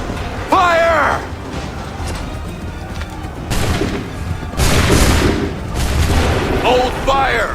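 Musket volleys in the game Assassin's Creed III Remastered: several heavy, booming broadside blasts roll out across a battlefield, loud and close, with shouted commands between them.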